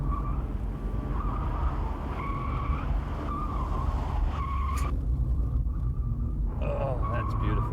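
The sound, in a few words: 1989 Ford Taurus SHO driving through pylons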